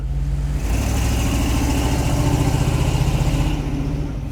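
A custom wagon car's engine idles steadily and close by, a continuous low rumble that settles into an even, throbbing hum after a brief shift near the start.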